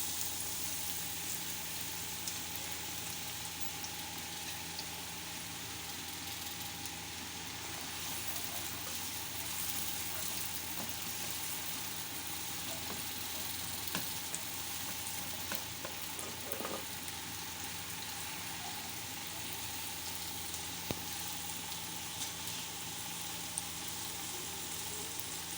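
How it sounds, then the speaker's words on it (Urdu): A medium onion sizzles in four tablespoons of hot oil for samosa masala, a steady, even frying hiss that goes on for the whole span with a few faint clinks of stirring and no speech. "ابھی اس میں 4 ٹیبل سپون ڈالیں گے آئل۔ اس میں ایک درمیانے سائز کی پیاز جائے گی"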